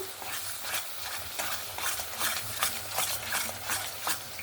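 Chicken curry masala with sugar is stirred in a pan, a spoon or spatula scraping in a steady repeating rhythm over a soft sizzle, close and moderately loud.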